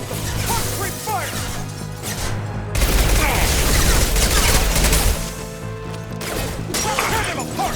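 Dense gunfire in a firefight in the video game Mass Effect 2, loud, rapid bursts and impacts layered over game music and effects, with combat voices calling out over it.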